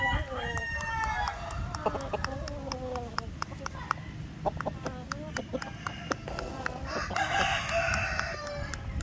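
Shamo chickens crowing and clucking in a farm coop, a mix of repeated crows and clucks with scattered sharp calls over steady background noise, with some speech faintly present.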